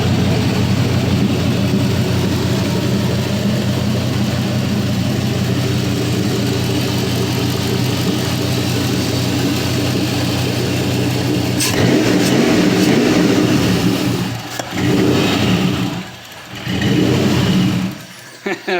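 A 4.8-liter LS V8 on an engine stand with no transmission attached runs loud and steady, then revs up and surges before stumbling and cutting out near the end.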